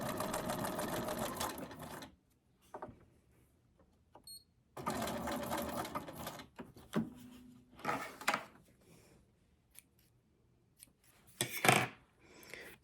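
A sewing machine runs a straight stitch on a junk journal tag in several bursts of rapid whirring, separated by quiet pauses with small handling clicks and rustles.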